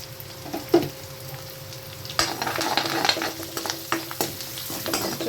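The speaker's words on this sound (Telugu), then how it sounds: "ఇది కాస్త ఫ్రై అయింది కదా ఇప్పుడైతే క్యాబేజ్ చేసుకున్నాం బాగా ఫ్రై చేసుకోవాలి" Carrots and cabbage frying in a pan for paneer fried rice: continuous soft sizzling that grows busier after a couple of seconds, punctuated by repeated scraping stirs and a few knocks of the spatula.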